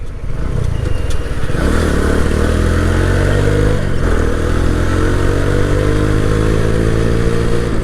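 A Vikrant V12 motorcycle revving hard while riding off-road, its loud, steady engine drone rising in pitch as it gains speed, heard close up with wind buffeting.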